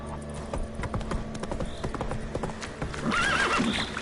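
Horse hooves clip-clop at a rapid galloping rhythm in The Witcher 3 video game, close and steady, with a whinny rising near the end.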